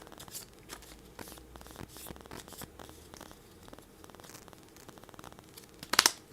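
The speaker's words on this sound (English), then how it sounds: "I spent enough time shuffling, I think." A deck of game cards for the Frosthaven board game is shuffled by hand in a quiet room, giving soft, repeated riffling and crinkly paper snaps that end in a sharper burst of card noise.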